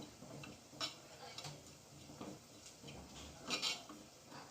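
Coconut crumb stirred in a pan with a utensil, giving light scraping and scattered clinks against the metal at an irregular pace, fairly quiet.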